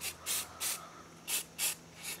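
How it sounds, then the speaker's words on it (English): Camouflage spray paint is applied to a Jimmy in short, separate hissing bursts, five or six quick puffs with brief pauses between them, close and fairly quiet. "You spray over a base coat and you're back in business again."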